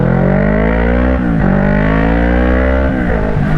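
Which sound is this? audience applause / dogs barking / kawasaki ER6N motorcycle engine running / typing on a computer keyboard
kawasaki ER6N motorcycle engine running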